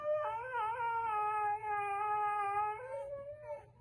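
A husky dog lets out a long, wavering howl, close and clear, rising and falling in pitch like a drawn-out vocal cry with no talking over it.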